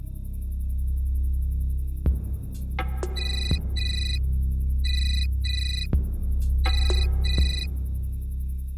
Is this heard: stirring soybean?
no